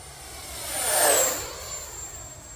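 A FlyFans twin 64mm EDF SU-27 Flanker RC jet rushes past with a rising, whooshing ducted-fan whine that swells to a peak and then recedes with a falling pitch, steady and moderately loud, with no talk.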